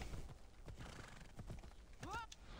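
A horse in Assassin's Creed Odyssey gives a clear, rising whinny near the end after a run of hoof clip-clops, close and fairly loud.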